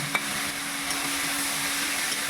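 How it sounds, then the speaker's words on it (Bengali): Chopped capsicum being stirred through other ingredients in a hot pan, a steady frying hiss with a couple of soft scraping touches, close by and with no talk. "সবগুলো দিয়ে একটু ভালো করে নেড়ে দেখো ক্যাপসিকাম দিলাম"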